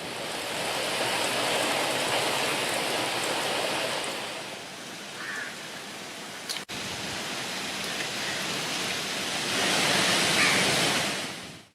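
Heavy rain pours down during Cyclone Nivar, a dense, loud, unbroken wash of hiss lasting throughout, with a brief sharp knock partway and no voices.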